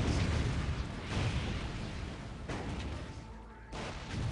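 Artillery fire rumbles through a battle in Dawn of War Ultimate Apocalypse, a dense, continuous wash of booms and blasts with sharper impacts near the start, around the middle and toward the end, loud and layered throughout.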